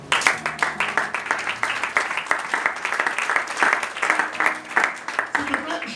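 Church congregation applauding together, steady dense clapping that rises and falls across the whole stretch, with voices and cheering mixed in.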